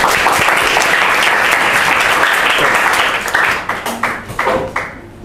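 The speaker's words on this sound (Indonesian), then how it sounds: "kita aplaus" Classroom audience applauding after a group presentation, dense steady clapping from many hands that thins out into scattered claps and fades over the last two seconds.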